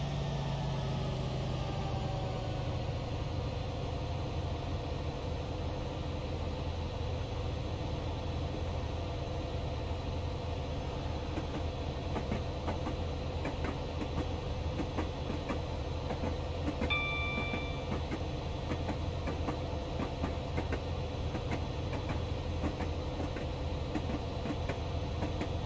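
Class 67 diesel locomotive in Train Simulator Classic on a Newcastle to Dunfermline Town run, a steady low engine drone with a falling tone as the throttle eases, continuous rumble and rail noise, a brief beep partway through, no talk.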